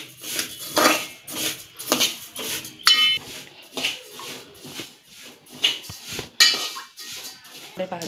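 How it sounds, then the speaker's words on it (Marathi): Sesame seeds, a quarter kilo of them, are dry-roasted in a pan for ladoos, giving soft repeated scraping and clinking of a spatula against metal, with a voice speaking over the stirring. "हे पाव किलो तीळ घेतलेत आपण, ते भाजून घेणार आहेत"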